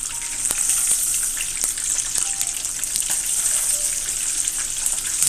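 Salt and pepper chicken wings sizzle in a pan, a dense bright crackle that runs without a break, with a few sharp pops and light clinks on top and no talk.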